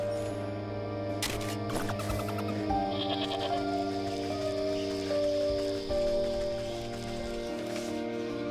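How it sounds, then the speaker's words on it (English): Sheep bleating in the video game Wytchwood, with a few wavering bleats over steady game music and ambient tones, fairly close and clear. "Alright, let's go see if we can help this sheep."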